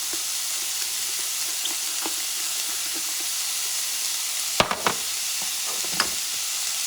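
Garlic caramelizing in a hot pan gives a steady, even sizzle and hiss, with a few sharp utensil clinks and scrapes in a short cluster toward the end.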